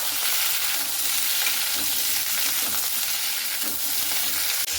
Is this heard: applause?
no